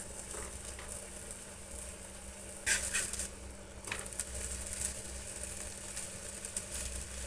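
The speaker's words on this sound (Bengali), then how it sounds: "অল্প তেল দিয়ে এটা ভাজবো যেহেতু এটা হেলদি খাবার বেশি তেল দেব না" Drumstick leaf paratha frying gently in a little oil, a soft steady sizzle with faint patter and a couple of brief louder crackles, quiet and close, no voices.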